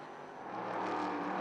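Race cars from an endurance meeting at Le Castellet run on track, a steady broadband engine and tire roar that grows slightly louder, fairly distant and continuous.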